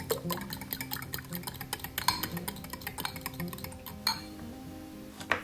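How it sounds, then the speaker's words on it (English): Eggs seasoned with salt and black pepper are whisked in a bowl, producing rapid, continuous close clinking and tapping of a utensil against the bowl, with a brief louder knock near the end. "Take 3 or 4 eggs. Add only some salt and black pepper. Then mix them very well."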